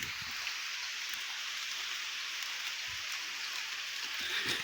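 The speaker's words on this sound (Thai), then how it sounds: "ฝนก็ตกแล้วบัดนี้" Steady rain falling, a constant high hiss of drops with occasional slightly louder patters, moderately quiet and uninterrupted, with no voices.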